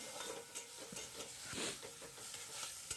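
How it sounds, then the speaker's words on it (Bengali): Spinach and prawns being stirred in a pan over a low flame, with soft scraping strokes and a steady light sizzle and hiss throughout, close and moderately quiet. "আমি এখন একটুখানি লো ফ্লেমে দিয়ে একটুখানি ভালো করে আগে নাড়িয়ে, নুন মিষ্টি সব কিছু দিয়ে একটা নাড়িয়ে নিচ্ছি"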